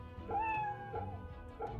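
A cat in a video game meows two or three times in quick succession, short and fairly faint over a low background hum.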